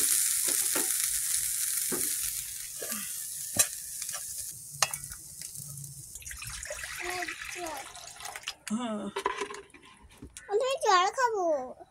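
Greens (shak) fry in a pan with a steady sizzle and stirring scrapes; water runs from a tap partway through, and voices talk toward the end.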